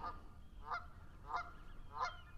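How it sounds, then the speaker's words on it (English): Four evenly spaced honks from geese overhead, distant and faint, above a low background rumble. "Those are not really large geese."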